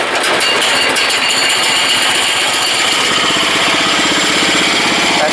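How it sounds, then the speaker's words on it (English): DR wood chipper with a belt drive, its clutch chattering as the small engine runs, giving a loud, steady mechanical rattle and clatter throughout with no pauses. "That chitter chatter you heard there before was the clutch."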